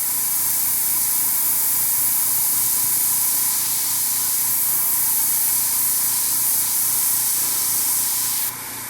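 A close, continuous spray from a Tamiya Spray Work HG airbrush with a small nozzle hisses steadily for several seconds, then cuts off abruptly at the end.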